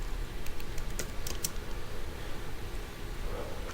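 Keys clatter on a computer keyboard as text is typed in Adobe Illustrator, a steady stream of quick close clicks with a few sharper taps, over a constant background hiss and no voices.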